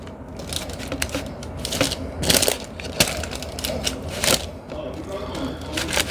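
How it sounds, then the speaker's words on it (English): A fork presses down on roasted Brussels sprouts lying skin side down, giving repeated crisp crunching squishes in an irregular rhythm, close and fairly loud. "I'm just going to take my fork and give them a little squish"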